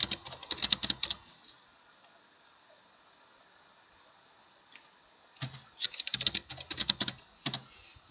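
Someone types a name repeatedly on a computer keyboard: two close, crisp bursts of rapid key clicks separated by a few seconds of near silence, with no talking.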